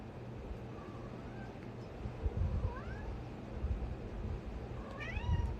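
A cat gives several short, rising meows at intervals over soft indoor background noise, fairly faint and with no talk.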